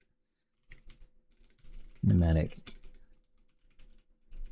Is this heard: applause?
no